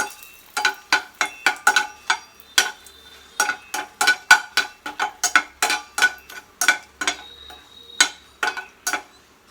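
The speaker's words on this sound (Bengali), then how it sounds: "এই যে শুকনো লঙ্কাটা একটু হালকা করে ভেজে নেব" Dried red chilies being lightly fried in a pan, with a spatula scraping in quick, regular strokes, each one a crisp, close, dry scratch against a near-silent background.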